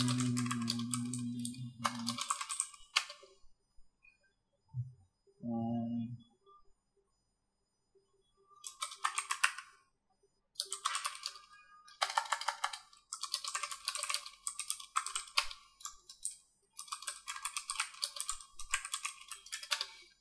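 Rapid keystrokes on a computer keyboard, typed in hurried bursts with short pauses between them, close and fairly loud, with a brief voice heard between the bursts.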